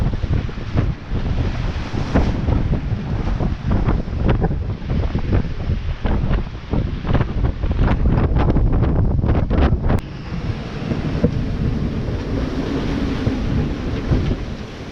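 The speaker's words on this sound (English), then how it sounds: "It's been howling for 6 days, and it's still blowing 22 knots coming in." Strong wind howls and buffets across the microphone at sea aboard a sailboat, with repeated gusting thumps and rushing spray layered under a steady roar.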